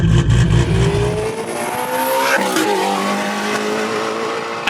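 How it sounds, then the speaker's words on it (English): A fully built, bottom-mount twin-turbo Shelby GT350 with about 1300 horsepower, revving to 8250 RPM, roars loud and close, its engine note sweeping up and falling away with tire chirp mixed in. "take a Shelby GT350 that revs to 8250 RPM, fully build it, and then do a bottom mount twin turbo setup on it"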